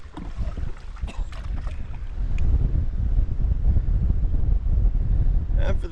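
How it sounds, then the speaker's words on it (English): Strong tailwind gusts buffet the microphone while canoeing in the backcountry, a loud low rumble under splashing water and paddle knocks, growing stronger after the first couple of seconds. "We got a super strong tailwind behind us here."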